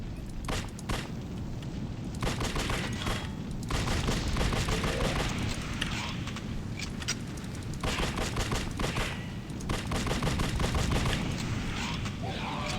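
Repeated bursts of gunfire and explosions from the horror action game The Suffering: Ties That Bind, loud and dense, continuing with only brief dips throughout.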